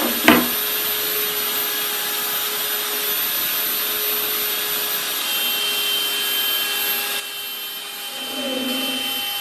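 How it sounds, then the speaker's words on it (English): A wood router spins steadily while routing a Telecaster guitar body, giving a constant high whine and hiss. A short knock comes near the start, and the tone dips and changes near the end. "never ever be tempted to lift the router off of the work while it's still spinning"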